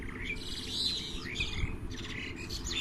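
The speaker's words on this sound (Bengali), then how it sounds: "হ্যাঁ, পাখিগুলো এত রেগে রেগে গেছে কেন?" Agitated birds chirp and tweet in rapid, overlapping bursts close by, over a steady low rumble of background noise, no speech.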